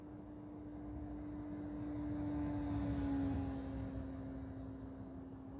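A steady, droning model airplane engine buzz in the RealFlight 9.5 flight simulator holds one pitch throughout, rising slightly in loudness midway, like a small propeller plane flying past.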